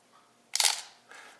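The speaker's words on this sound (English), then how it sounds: "This camera has 1 mechanical shutter on it." A Nikon FG film SLR fires its mechanical shutter at the M90 setting with no battery: one sharp, close mechanical snap followed by a softer second click a half-second later, against near silence.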